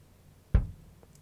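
A single deep kick drum hit with its high end EQ'd out lands as a soft, boomy thud with a short decay, followed by a faint tail and near silence.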